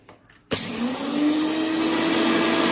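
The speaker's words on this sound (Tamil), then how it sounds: "அதை மிக்சியில் போட்டுருவோம். மிக்சி காஞ்சிருக்கணும் நல்லா. இப்போ அரைச்சிட்டு வந்துடுவோம்." Mixer grinder starts abruptly and whirs loudly while grinding roasted fenugreek, mustard and coriander seeds, holding a steady high motor whine with a rising pitch as it runs, near and alone.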